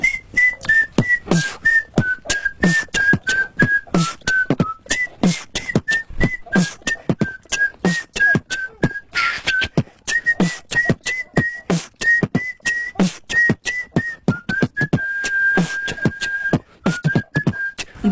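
A skilled whistler carries a lively melodic tune alone, loud and close, with rapid pulsed notes and gliding pitch changes running the whole time.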